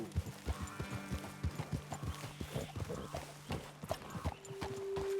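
Horse hooves clip-clop at an uneven walking pace in the Red Dead Redemption 2 video game. The quiet thuds repeat steadily, with faint ambient sound between them and no clear speech.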